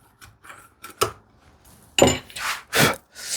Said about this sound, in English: This is the 1/8 inch chisel, narrower chisel to take out the